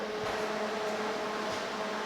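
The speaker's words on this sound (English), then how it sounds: "That noise you hear is actually the furnace up there to heat the garage now" A garage furnace runs with a steady mechanical hum and low tonal drone, constant and moderately loud throughout.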